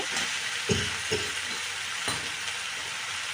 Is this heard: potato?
yes